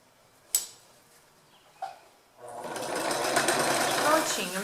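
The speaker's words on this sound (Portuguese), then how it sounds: "Vou passar aqui uma costura de pé de máquina e vou rebater menor igual eu fiz lá." A sewing machine stitches a presser-foot seam in fabric for a homemade organizer bag. Two sharp clicks come first, then a steady, close whirring run of stitching for about two seconds.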